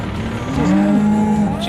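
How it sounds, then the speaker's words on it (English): A cow on a farm at hay-bale feeding time gives one loud, close, drawn-out moo lasting about a second. "The cows are gonna scream, because that's what cows do."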